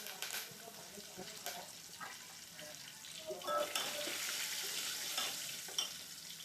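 Asafoetida, garlic and curry leaves with mustard seeds sizzling in hot oil in a pan, a steady hiss that swells midway, with faint stirring clatter and a voice talking over it.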